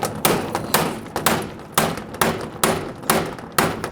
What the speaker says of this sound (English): Let me see if I can get a hammer and just bust it off.